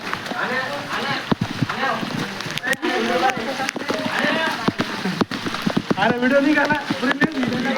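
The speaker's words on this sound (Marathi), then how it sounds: "पाऊस बघा किती पडते" Heavy rain pouring at Raigad fort, a dense spatter of drops on surfaces with sharp splashes and knocks, while people talk loudly over it.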